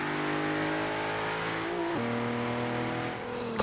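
An Infiniti Q50 pulls hard through the gears on a test drive, its engine note climbing steadily, dropping abruptly at a shift, then climbing again, loud and continuous from inside the car with no talking.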